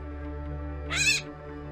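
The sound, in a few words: gray catbird calling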